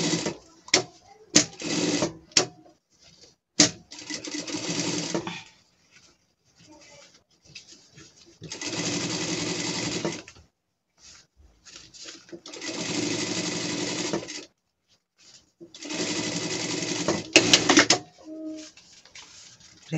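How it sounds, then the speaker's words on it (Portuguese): Leather for a gaucho pet costume is stitched on a sewing machine in four separate bursts of close mechanical whirring, each a couple of seconds long, broken by pauses, fabric handling and sharp clicks. "couro dá um trabalho para costurar"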